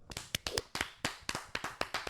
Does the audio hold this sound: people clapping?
yes